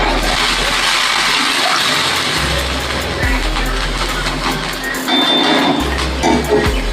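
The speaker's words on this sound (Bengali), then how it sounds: "এবার আমি আলু সেদ্ধ হওয়ার মতো জল দিয়ে দেবো।" Water pours into a cooking pot on the stove for boiling potatoes while a jackfruit and shrimp curry is being made, with a steady, close rush of running water and a low hum underneath.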